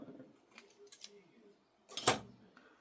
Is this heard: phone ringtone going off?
no